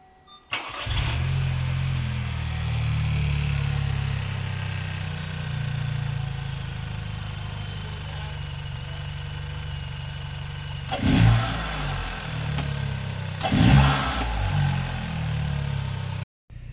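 A 2016-2019 second-generation Chevy Cruze with an upgraded wastegate actuator starts up and drives, its engine holding a steady loud hum with two distinct revving surges later on, close and alone.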